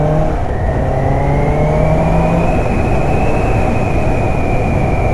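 A 2019 Suzuki GSX-S 750 motorcycle pulling hard, its engine note climbing steadily in pitch as it revs up through the rev range, loud and close, with wind and road roar beneath and no voices.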